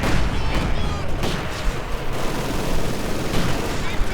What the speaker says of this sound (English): More Katyusha rockets, more rocket artillery